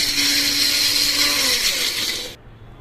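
Roasted amla pickle spices being ground to powder in a kitchen mixer grinder, a steady loud whirring drone that runs unbroken before cutting off abruptly near the end.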